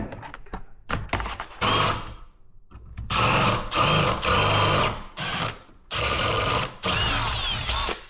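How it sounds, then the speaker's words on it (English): A power drill whirs in several bursts drilling a hole through a handguard bracket on an Aprilia Tuareg 660, starting with short stuttering pulses, then longer sustained runs separated by brief pauses, loud and close. "I'm just going to drill a hole through that"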